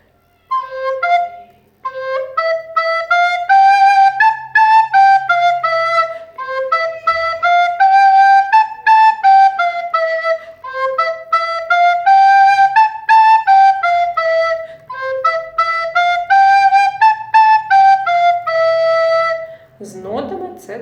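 The second voice of the Ukrainian spring folk song "A my proso siialy" played alone on a reedy melodic instrument, a steady flowing line of notes with brief pauses, clear and close.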